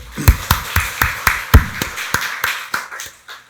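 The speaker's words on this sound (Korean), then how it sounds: "박수로 하나님께 영광 돌리겠습니다" A church congregation claps together in a steady, even rhythm during a Sunday service, about four claps a second, sharp and close, gradually softening toward the end with no talking.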